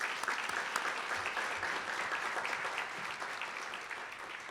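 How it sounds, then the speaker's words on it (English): Steady applause from an audience thanking Andrea, dense continuous clapping holding at an even level for the whole stretch with no voices breaking through. "So why don't we all give Andrea a round of applause"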